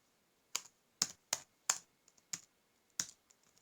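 Irregular keystrokes on a computer keyboard, about six distinct clicky taps spaced unevenly with brief pauses, close and fairly quiet in an otherwise silent room.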